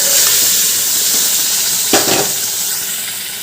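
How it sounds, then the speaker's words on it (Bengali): Boiled dal tipped into a hot pan of spices, a loud broad hissing sizzle that flares with a brief splash of the liquid going in, then settles into steady frying, close and alone. "এবার দিয়ে দেব সেদ্ধ করে রাখা ডাল"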